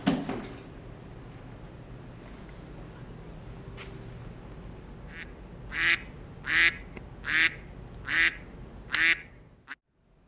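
A run of six loud, evenly spaced duck quacks close by, following a quieter stretch of steady rain-soaked ambience around a leaking building.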